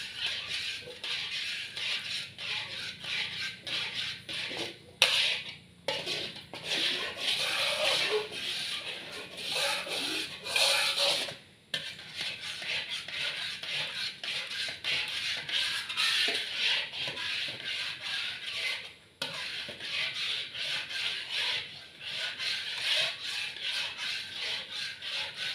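Coconut milk stir-fried in a pan until its oil separates, for a Thai fish curry. A steady sizzling rasp with scraping and stirring runs throughout, with a few brief pauses and no speech.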